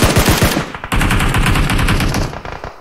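Rapid automatic gunfire from PUBG Mobile rattles loud and close in dense bursts, breaking off for a split second before the shooting resumes almost without pause.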